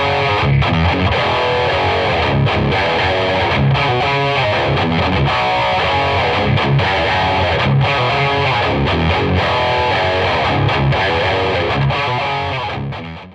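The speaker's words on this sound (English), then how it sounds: "with it all the way up, you get that ultra gain, really high gain sound" Heavily distorted electric guitar through a Boss distortion pedal with gain fully up, very high gain, dense and biting, chugging riffs played loud and continuous before cutting off at the end.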